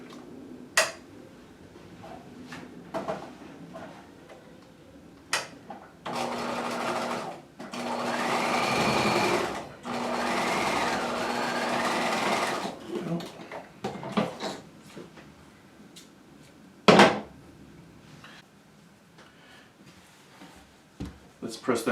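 A sewing machine stitches the center back seam of a jacket in two bursts of steady whirring, with scattered handling clicks and fabric shuffling before and after the stitching.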